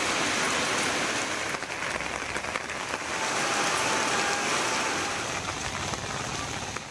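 Heavy night rain pours down in a rural Tamil Nadu farming area, a loud, dense and continuous hiss of drops on surfaces with no voices.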